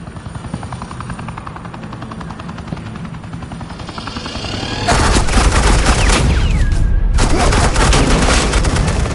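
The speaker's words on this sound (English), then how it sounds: "suppressing fire" Suppressing gunfire breaks out halfway through over a steady helicopter drone: dense, loud rapid bursts with a short pause before the firing resumes.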